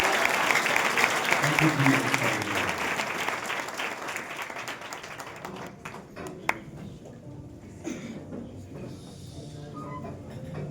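Loud clapping from a Punjabi church congregation at a Palm Sunday meeting in Dubai, dense and sustained at first and then thinning out, with a sharp tap or ping standing out near the end.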